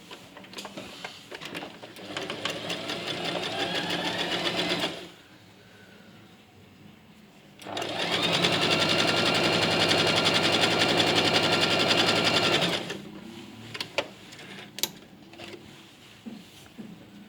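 Sewing machine stitching fabric ribs (pintucks), running in two sustained bursts of steady rapid mechanical whirring separated by a quieter pause, close and loud, with a few small clicks at the end.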